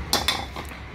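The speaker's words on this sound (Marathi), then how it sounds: "भांडं ठेवते मी इकडे" A metal cooking pot set down on a home kitchen stove, giving two close clanks in quick succession followed by faint rattling, with no talking.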